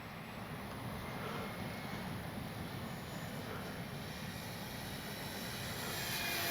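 An X-Fly Spitfire RC model plane flies speed trials in windy conditions, its engine a steady, faint, distant drone that swells slightly toward the end, with no voices.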